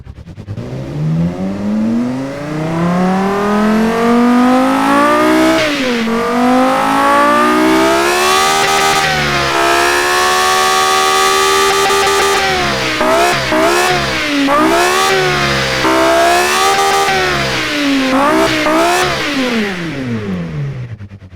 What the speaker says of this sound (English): let's fire it up and see what's what. It's gonna be loud again.